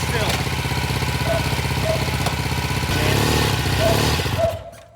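Norton motorcycle engine, just repaired, running steadily nearby with a loud throbbing, mechanical clatter for several seconds before fading out at the end; a voice is faintly present.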